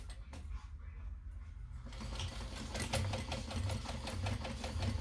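A sewing machine stitches a quarter-inch seam on a pocket, starting after a quiet moment and then running in a fast, steady mechanical chatter, close and clear.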